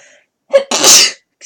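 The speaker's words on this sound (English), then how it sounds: "I feel like I'm going to sneeze." A single loud sneeze with a short sharp intake followed by a forceful burst, close by, then quiet.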